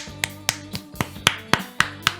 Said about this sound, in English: Give them a clap for that one.